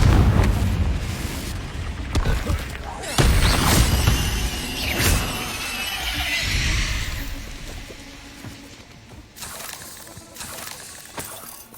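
A Confringo fire-blast spell in the Hogwarts Legacy video game, heard as loud booming explosions with a fiery whoosh, repeated bursts over about twelve seconds that fade into rumbling debris, with no talk over them.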